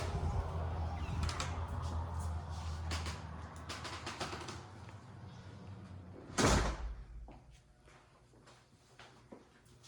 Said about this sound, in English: we walk into a beautiful 8 foot door in the middle